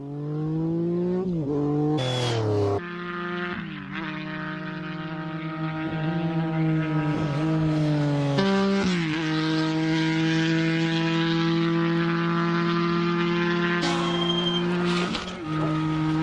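An early-1970s Trident motorcycle engine at the Isle of Man TT, revving hard with sharp pitch rises and drops as the throttle is worked from half to fully open, loud, close and continuous with strong harmonic whine.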